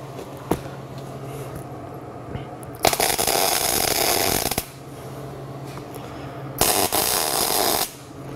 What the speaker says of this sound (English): Throw a couple of tack welds and go.